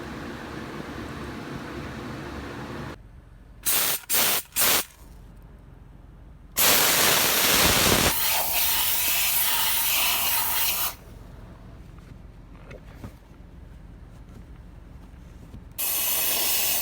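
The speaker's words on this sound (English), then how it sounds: "take the steam cleaner and clean all the cup holders and all of the door jams" A steam cleaner hisses in loud bursts while cleaning car cup holders and door jambs during mobile detailing, with short sprays, longer blasts and quieter gaps between them.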